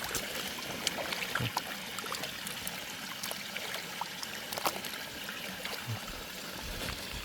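Clear stream water flowing near a forest waterfall, a steady rushing wash with small trickles and splashes throughout, fairly close and continuous, with no voices.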